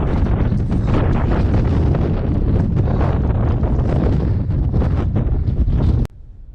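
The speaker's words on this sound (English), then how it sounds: "It's so windy. It's too windy to ride." Loud, roaring wind on Great Dun Fell buffets the microphone continuously for several seconds, then cuts off abruptly.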